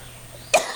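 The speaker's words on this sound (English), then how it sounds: "I'm going to cough again" A single sharp cough from a smoker, abrupt and close, breaking out of near silence and fading quickly.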